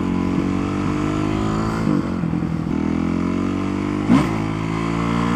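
A motorcycle revs and accelerates hard in first gear, its engine holding a steady loud drone with small shifts in pitch and a brief surge near the end.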